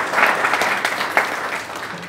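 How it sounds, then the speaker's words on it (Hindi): An audience claps together at a career talk on UPSC exam preparation, a dense, steady burst of applause lasting about two seconds, fairly loud and close, with a slight surge near the end. "आप अपने लिए एक बार ताली बजा दीजिए।"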